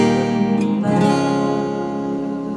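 Acoustic guitar plays the pre-chorus chords of a song, strummed and ringing close and clear, with a brighter strum attack near the middle and no talking.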